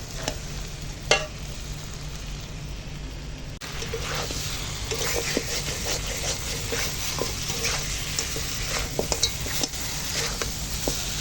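Goat head curry being stir-fried down in a pan, with a steady low sizzle and frequent scraping and knocking of a spatula against the pan, close by and moderately loud, no talking.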